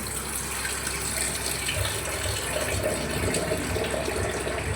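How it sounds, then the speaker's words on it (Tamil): Water is poured into curd to make buttermilk, a close, continuous gushing pour that stays steady and fairly loud throughout, with no talking. "தண்ணி ஊற்றி"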